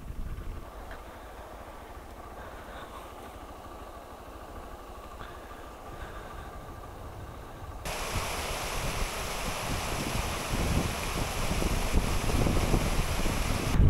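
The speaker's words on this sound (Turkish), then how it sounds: "Yukarı çıkınca var ya, inanılmaz bir rüzgar başladı." Steady wind rushes outdoors on a high plateau, Delmece Yaylası, then grows stronger and buffets the microphone with a loud, roaring gusty noise for the last several seconds.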